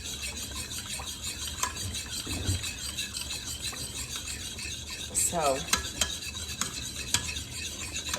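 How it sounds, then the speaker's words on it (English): A spoon stirs creamy clam chowder with butter in a pot, giving a soft continuous scraping and swishing with faint sizzle and occasional clinks of the utensil against the pot. "you just got to keep stirring it"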